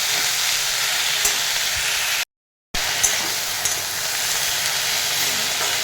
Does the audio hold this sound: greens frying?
yes